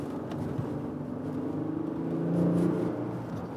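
Steady exhaust drone from a 2016 Porsche Cayenne GTS with a turbo V6, a low, even rumble that swells slightly as it revs, heard alone without talk.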